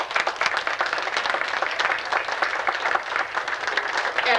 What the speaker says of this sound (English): I would like to applaud